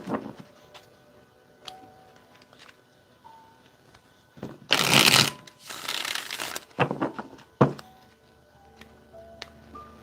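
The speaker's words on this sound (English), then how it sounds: "We're going to do 2 more shuffles, and then I'm going to get started." Tarot cards shuffled by hand during a reading, a dense papery riffling burst in the middle with scattered light taps and clicks before and after, fairly close and moderately loud.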